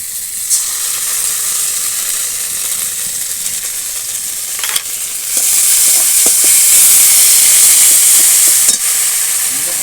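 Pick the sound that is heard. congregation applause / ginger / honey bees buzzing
ginger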